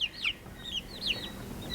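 Young chicks chirp in a brooder tank, giving a few thin, high peeping calls spaced across the moment, fairly close over a low background hum.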